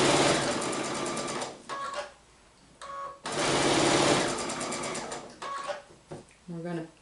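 Sewing machine stitching quilt block pieces together, running in steady whirring bursts up close with short pauses between seams, while a person talks over and between the runs.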